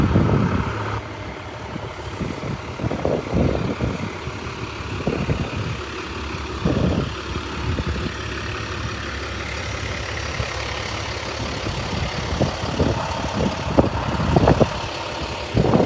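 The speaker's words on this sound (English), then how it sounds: "Move past this loud truck right now." A loud truck rumbles nearby, passing and then idling, with a deep engine drone and uneven bursts of mechanical noise that swell again toward the end, without voices.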